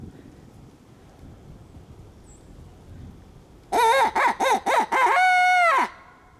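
A wild turkey in Indiana gobbles loudly and close, a rapid burst of several warbling notes followed by a sustained rattling call, after quiet outdoor background.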